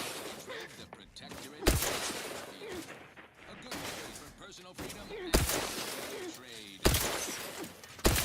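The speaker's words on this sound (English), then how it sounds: "On with a frost bomb, then." Video game explosions from frost bomb grenades, several sharp bursts spaced a few seconds apart over continuous combat noise, with a voice talking between them.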